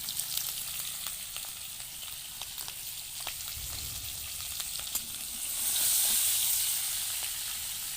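Boiled duck eggs frying in hot oil for a curry, a steady bright sizzle with occasional light utensil taps, growing louder and hissier near the end.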